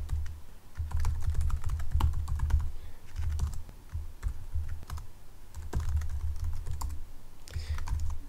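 Steady, close typing on a computer keyboard, a dense run of quick key taps with occasional louder strokes over a low background hum, no voice.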